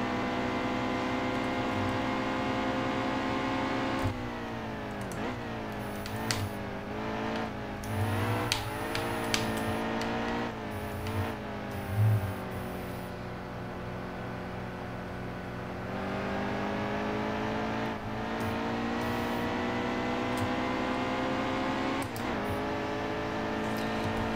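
A NASCAR race car at Watkins Glen in the NASCAR Heat 2 racing game, its engine droning loud and steady, with pitch dipping and surging through the turns as it brakes and accelerates.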